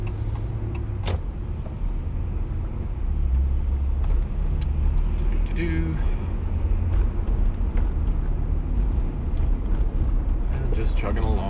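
A 2WD truck drives through a 2019 Ontario ice storm, its engine a steady low rumble under road and wind noise from inside the cab, with occasional faint clicks and a brief squeak.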